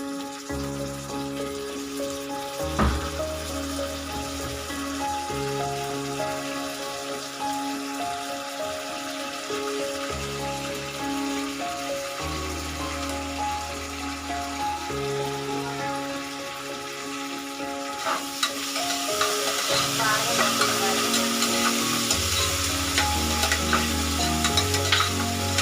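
Ginger garlic paste frying in a pan while being stirred, a soft steady sizzle broken by repeated scraping strokes that grows brighter and louder near the end, with no voices.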